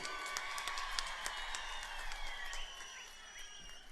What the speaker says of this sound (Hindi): युवा सांसद और पूरे देश के गोरखा नेता भाई राजू बिष्ट के लिए जोर से ताली बजाइए।